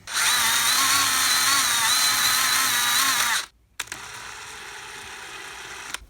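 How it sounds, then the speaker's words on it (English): A power drill drives a screw into a metal light bracket on a drill press, a steady loud whine that revs with changing pitch for about three seconds, stops, then a quieter mechanical running sound follows. "let's run this screw in here"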